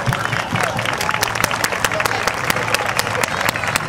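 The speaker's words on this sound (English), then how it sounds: "So again, big round of applause." Crowd applause at a CIBC Run for the Cure charity run event, a steady wash of many hands clapping with sharp individual claps standing out, sustained and fairly loud throughout.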